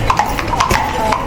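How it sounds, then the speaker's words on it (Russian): Several horses clip-clop past on a street in Vienna, sharp hoof strikes in an uneven rhythm ringing off the pavement, close and fairly loud over a low urban hum. "Тем временем мимо проезжает куча лошадок."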